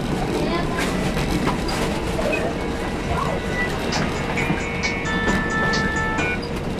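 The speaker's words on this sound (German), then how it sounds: "im Zug unterwegs nach Kirchberg" Mariazellerbahn narrow-gauge train on the line between Laubenbachmühle and St. Pölten, heard from inside as a continuous rumble and rattle of wheels with faint squeals, while people talk quietly throughout.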